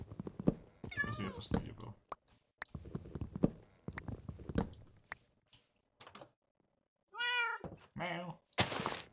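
Minecraft cats meow in the game world, several short rising meows scattered between thumps and clicks, with people talking over the sounds.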